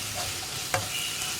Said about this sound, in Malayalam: ഇത് രണ്ടും ചേർത്ത് നന്നായിട്ടൊന്ന് ഇളക്കി മിക്സ് ചെയ്യുക.